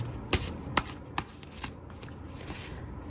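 Cards are shuffled by hand, with three crisp snapping riffles in quick succession followed by softer sliding and tapping, close by and without voices.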